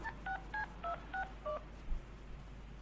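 A phone in the Deadpool video game dials six quick touch-tone beeps in an even rhythm, followed by a soft click, clear and close over quiet background.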